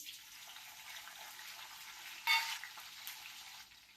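Green chillies frying in hot oil in a home kitchen give a steady, moderately loud sizzle, with a brief louder burst of crackling partway through as they are stirred.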